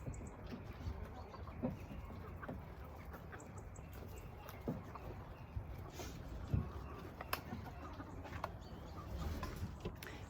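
Chickens clucking softly in a yard, with scattered faint clucks and small rustles over a quiet background.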